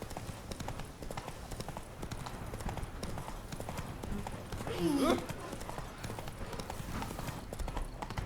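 Steady galloping horse hoofbeats in The Witcher 3: Blood and Wine pound along with a brief whinny midway, under a person talking and background game sounds.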